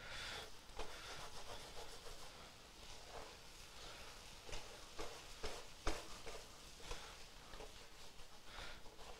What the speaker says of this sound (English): Let's get scraping all the stuff you can off the bottom.